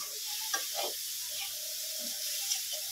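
Coconut filling is stirred in a pan, a quiet hiss with soft scraping strokes from a spoon, close by and without voices.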